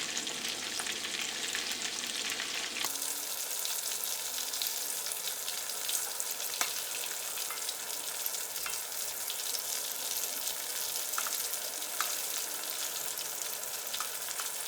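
Squid pieces frying in oil over a medium flame, a steady bright sizzle that shifts abruptly as the pieces are turned, followed by continuous crackling and occasional pops, with no talking.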